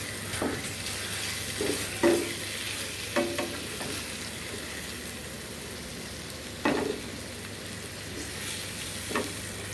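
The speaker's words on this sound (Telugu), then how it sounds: "అట్లా కలుపుకుంటూ ఉండాలండి" Amaranth leaf curry sizzles steadily in a pan while a spoon stirs it, with a few sharp scrapes and knocks against the pan over the continuous frying hiss.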